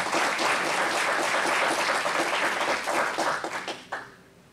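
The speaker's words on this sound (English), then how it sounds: "Shall we honor him with a clap offering?" A church congregation gives a sustained round of applause for their senior pastor, loud and dense throughout before tapering off in scattered claps near the end.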